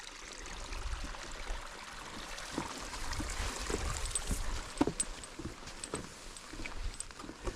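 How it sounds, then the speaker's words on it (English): A stream flows steadily nearby throughout on a hiking trail, with scattered footsteps and light knocks on a wooden surface over the continuous wash. "You can hear the water."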